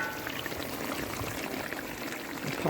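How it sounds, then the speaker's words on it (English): Water poured off a pot of cooked vegetables in a work kitchen, a steady rushing splash that holds for a few seconds and swells slightly at the end, with no talk. "After I pour off the water"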